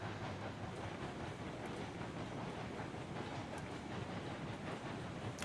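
Steam locomotive in the video game Railroads Online, chuffing and rumbling steadily up a valley with a continuous dense hiss, heard alone.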